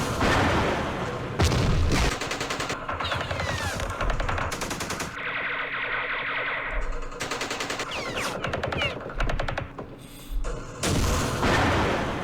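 Artillery and automatic fire in a Vietnam War strategy game set at the Battle of Hue: repeated bursts of rapid, crackling shots and booms, separated by short lulls, with a faint voice in the background.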